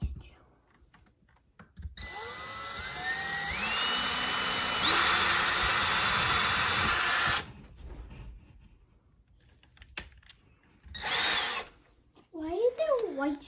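A power drill bores into drywall while hanging a shelf, a loud whine rising in pitch over about five seconds, then stopping; a brief second burst follows, with quiet talk in the gaps.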